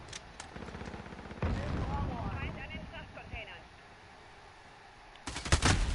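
Bursts of gunfire from the Call of Duty Modern Warfare game on PS4, sharp shots at the start and a heavier volley near the end, with voices talking over the game sound.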